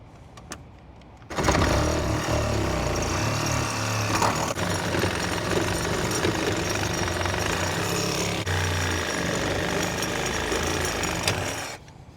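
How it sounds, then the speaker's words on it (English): A power tool grinds and cuts through bolts on a retired fleet vehicle, a loud, harsh, continuous roar lasting about ten seconds before stopping abruptly, close to the listener. "I got both of those bolts, cut them in half"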